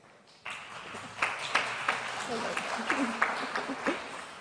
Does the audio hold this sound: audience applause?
yes